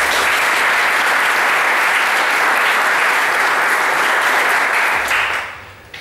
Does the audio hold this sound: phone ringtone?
no